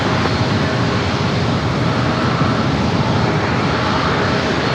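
Six-year-old Boeing 737 MAX 8 departing San Diego for Boise, Idaho, a dense, steady jet roar held at constant loudness with no voices.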